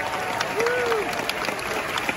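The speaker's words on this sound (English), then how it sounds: "Let's give them another round of applause" Outdoor audience at the Hollywood Studios 35th anniversary celebration claps in a steady, moderate spread of applause, with a faint voice and a short whistle-like tone heard over it.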